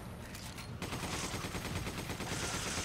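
Rapid gunfire in the video game Resident Evil 5, a dense, steady stream of shots that swells after a brief opening, loud and close with no talk.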